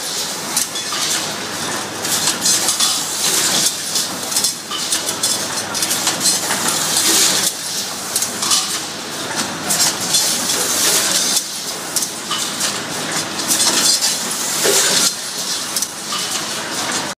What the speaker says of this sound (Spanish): los diferentes componentes de los rieles se van añadiendo en los diferentes dispositivos que contiene esta maquinaria